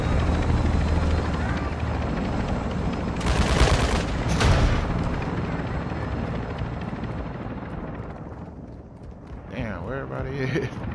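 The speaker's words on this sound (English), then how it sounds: "I don't know why he's shooting me." Gunfire aimed at the player in Call of Duty crackles amid a loud, continuous helicopter drone and battlefield din, with a few sharper bursts standing out from the steady roar and no talking.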